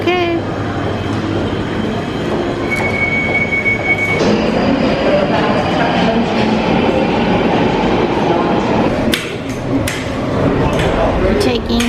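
A London Underground train rumbles loudly and continuously close by, with rolling wheel noise, metallic squeals and a brief high tone, heard in a busy station setting.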